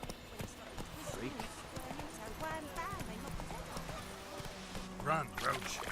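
Hooves of the horse Roach clatter in a rapid galloping rhythm in The Witcher 3, running under continuous game music and sound effects while a player talks over it.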